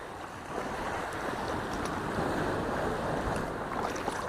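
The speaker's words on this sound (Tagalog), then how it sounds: "Parang magsasardinas lang kami ngayon na. May alon." Ocean waves wash and churn around a small fishing boat at sea, a continuous, fairly faint roar with gusts of wind buffeting the microphone.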